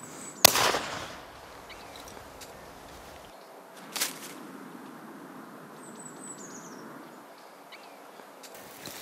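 A single sharp gunshot cracks out in open air during retriever gun-dog training, followed by a fainter second report a few seconds later over quiet outdoor ambience with distant birds.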